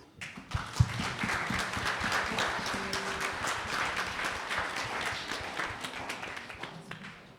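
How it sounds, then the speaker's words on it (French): An audience in a church in Saint-Denis applauds after a praise concert: sustained clapping from many hands that fills the room with steady, evenly spread rhythm, a few sharper individual claps standing out near the start. "Et je crois même que vous pouvez vous applaudir."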